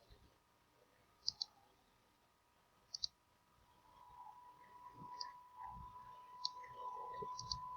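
A computer mouse clicks sharply several times, mostly in quick double clicks, close and crisp over a faint background hum and soft low rustling.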